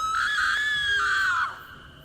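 A woman's loud, sustained scream in a horror story, rising sharply and holding for over a second before breaking off and fading into a low background hum, heard alone without talk.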